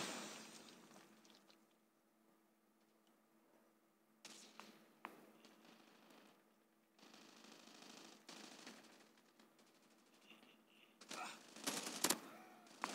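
Bursts of automatic gunfire in Call of Duty Mobile on the CrossFire map, scattered and fairly faint through a quiet stretch, then louder, sharper volleys near the end.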